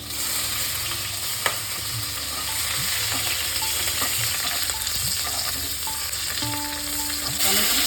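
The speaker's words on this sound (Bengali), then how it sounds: "একটা বড় ক্যাপসিকামে হাফ নিয়েছি, সেটা একটু হালকা করে ভেজে নেব" Half a large capsicum frying lightly in oil in a pan, a steady close sizzle with occasional stirring clicks and scrapes, no voices.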